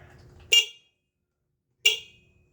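A car horn honks twice, two short loud blasts about a second apart, with silence between and after.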